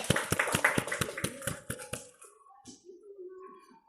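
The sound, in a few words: class applause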